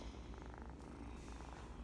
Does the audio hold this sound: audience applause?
no